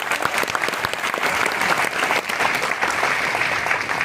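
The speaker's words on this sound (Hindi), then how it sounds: "ताली इन सभी लोगों को।" Audience at a direct-selling company event applauding an MD's stage speech, dense steady clapping from a large crowd filling the whole stretch, loud and close without pause.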